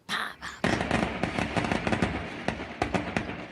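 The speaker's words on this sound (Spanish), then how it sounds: "Disparos y fuegos artificiales, ráfagas sin control por más de 6 horas continuas." Gunfire and fireworks at a night-time narco wake in Chile: rapid, irregular crackling bursts and pops in a continuous dense volley, somewhat distant and echoing.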